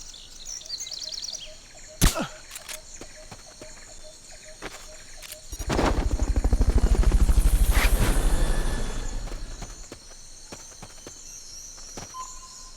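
A helicopter rotor in the video game Metal Gear Solid: Peace Walker thumps and swells louder for several seconds, then fades, amid sharp clicks and scattered game sound effects.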